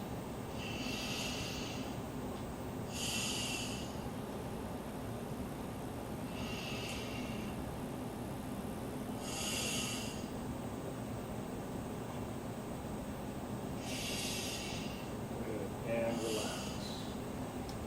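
Deep breathing during a Qigong exercise session comes as slow, soft hissing breaths repeated at intervals over a steady background hum, faint and close.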